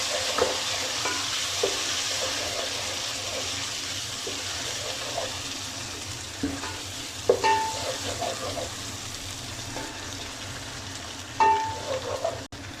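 Garlic and ginger fry in a pan with soft sizzling, occasional clinks and stirring scrapes, fairly quiet and close, with no talking.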